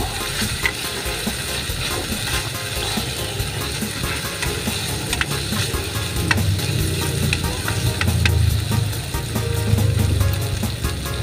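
Ginataang kamansi with eggplant and anchovies being stirred in a pan: a utensil scrapes and clatters repeatedly against the pan over a steady sizzle, close and continuous, with no talking.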